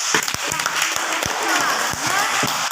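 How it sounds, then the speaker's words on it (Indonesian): Classroom applause, a scattered burst of clapping from a group with voices mixed in, steady and moderately loud throughout. "tepuk tangan nih"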